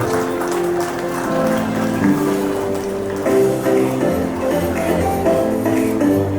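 Audience applause at the Magis Award Ceremony 2025 at St. Xavier's College, Ranchi: a steady wash of clapping running the whole time, mixed with sustained music tones.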